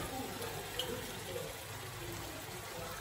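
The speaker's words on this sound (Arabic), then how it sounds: "هنا غادي ندير شويه ديال الماء" Water poured into a cooking pot while chicken with Coca-Cola is being cooked, a faint, steady trickle running throughout.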